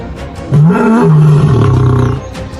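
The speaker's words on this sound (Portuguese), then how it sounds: "Diante do macho alfa, ele soltou um rugido poderoso e um desafio inegável." A leopard lets out a single loud, deep roar in a savanna setting, close and powerful, rising and then sliding lower over about two seconds before fading, with no talk over it.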